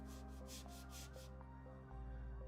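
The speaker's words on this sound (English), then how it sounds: "he is polishing his helmet live on YouTube for the views" Steady rubbing and sanding strokes polish a metal armor helmet, a continuous scraping rhythm close by over a low steady hum, with no talking.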